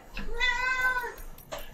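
A cat meows once in a long, drawn-out, tonal call, fairly close and clear, followed by a short second chirp.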